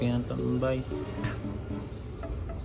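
Pigeons kept by a fancier give soft chirps and cooing calls, close and layered, continuing throughout under a person's voice.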